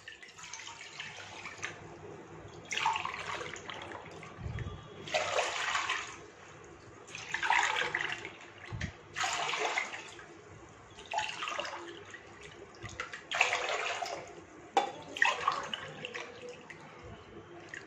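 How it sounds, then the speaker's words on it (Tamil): Water is poured repeatedly into a pot, one tumbler at a time, for rava kesari, a semolina sweet. Steady splashing gushes recur in regular pours over a constant background hiss, close and moderately loud, with no talk. "இப்போ 5 டம்ளர் நம்ம ஊற்றிருக்கோம்."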